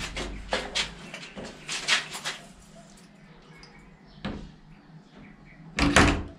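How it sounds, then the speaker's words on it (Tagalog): A PVC door being lifted and set onto its hinge pin, a series of hollow plastic knocks, scrapes and clunks up close, with a louder cluster of bumps at the end. "ikakabit na natin yung pinto. Yan, isusuot natin dito sa butas na to."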